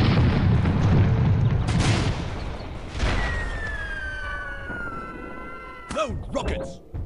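Cannons and rockets fire from airships in the Air Buccaneers game: heavy booms roll out near the start and again around the middle, followed by a whistling rocket streak and more blasts, with players shouting over the battle.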